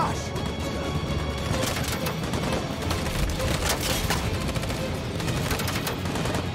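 Dense, continuous gunfire in the video game Detroit: Become Human, rapid automatic shots and crashing impacts at a steady loud level throughout, with a player talking over it.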